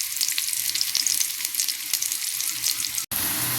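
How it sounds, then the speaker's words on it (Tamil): Onions sautéing in a pan for kara chutney give a steady, close, dense sizzle and crackle, with a few faint stirring knocks and a brief gap near the end. "வெங்காயம் நல்லா வதங்கட்டும்."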